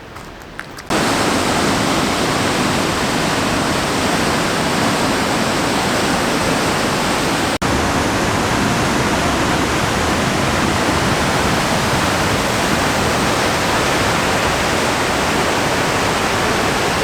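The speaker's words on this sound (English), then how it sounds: "It's got a nice beautiful waterfall here." Steady, loud rush of a waterfall pouring on a chilly winter morning outdoors, a dense unbroken roar filling the whole stretch with no talk over it.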